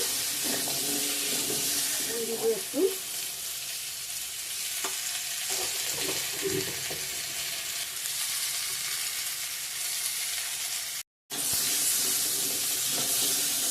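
Boiled elephant foot yam fries steadily in a pan with a constant close sizzling hiss, broken by a few soft stirring clatters and one brief gap in the sound.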